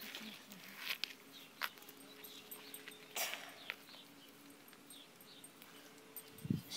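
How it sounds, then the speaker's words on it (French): A dog outdoors makes a few faint, brief vocal sounds at a distance, with a louder whimper-like cry near the end, amid rustling and light footsteps. "Oh! Un chien encore."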